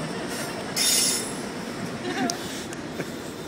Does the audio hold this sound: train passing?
yes